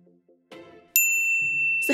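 A bright notification bell rings one clear ding that sustains after a soft clatter and a brief murmur, followed by a second sharp chime at the end.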